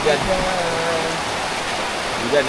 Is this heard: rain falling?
yes